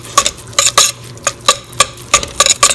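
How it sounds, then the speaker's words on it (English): A utensil stirs and scrapes stuffed pepper filling of rice and meat in a pot, making about a dozen sharp clinking scrapes in an uneven rhythm, close and fairly loud, with no one talking. "Stir this up."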